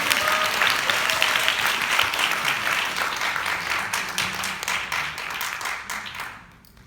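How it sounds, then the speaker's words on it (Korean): A crowd applauds to welcome a speaker at a business meeting, broad, dense clapping that stays loud and even before tapering off at the end, with a few faint voices underneath. "그분을 제가 모셨을 때 큰 박수 부탁드리겠습니다"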